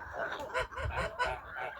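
Geese honk repeatedly at close range in a Ukrainian farmyard where chickens feed alongside geese and ducks, several overlapping calls in an irregular rhythm.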